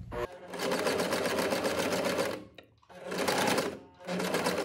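A sewing machine runs a final seam on a boat-neck blouse, a loud, fast, steady stitching whir in three bursts with a brief pause between the first and second.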